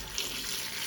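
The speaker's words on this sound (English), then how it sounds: "we're pouring the salt water over the pickles now" Salt water brine is poured over cucumbers in a pickling crock, making a steady, soft rushing splash that runs on without a break for just under a second.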